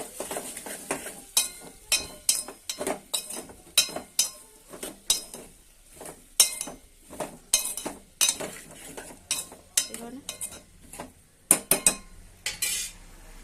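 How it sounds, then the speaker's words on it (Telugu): Potato pieces go into a potato-tomato curry pot and get stirred vigorously, giving repeated close metal spoon scrapes and clinks against the pot in an uneven rhythm over a faint sizzle. "ఆలు పీసెస్ వేసుకుంటా వేసుకొని బాగా కలుపుకుంటాను"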